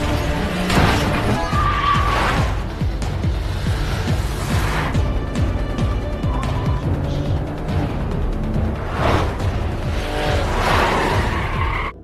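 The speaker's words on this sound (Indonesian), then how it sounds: "Hingga akhirnya mobil mereka tabrakan dan Kang Kyung yang berhasil kabur lagi." A film car crash in a gangster chase: engines roar, tires skid and squeal, then heavy impacts smash and crunch, loud and close with a busy music or effects bed and no speech.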